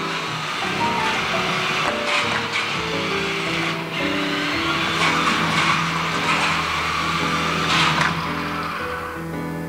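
A Kyosho EGG Mario radio-controlled toy car turns a left corner, a steady whirring motor with scuffing wheel noise that runs continuously and fairly close, rising slightly toward the end.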